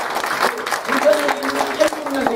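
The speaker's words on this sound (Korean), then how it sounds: "박수 한번" A Sunday service congregation in an Auckland Korean church claps to welcome a new member. The warm, moderate applause runs under a voice talking over it.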